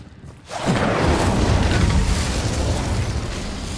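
An Incendio fire spell cast in Hogwarts Legacy erupts after a brief quiet into a loud, roaring burst of flame that holds and slowly fades.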